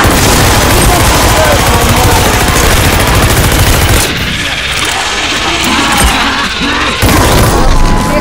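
In the Call of Duty Vanguard Zombies video game, explosions and rapid gunfire form a loud, dense barrage that briefly thins midway, then surges back.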